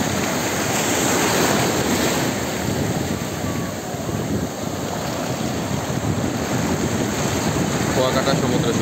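Sea waves at Kuakata beach, a continuous loud roar of surf close by with wind buffeting the microphone throughout.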